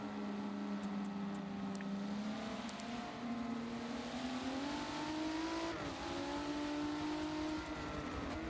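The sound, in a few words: sim racing cars at Brands Hatch, video game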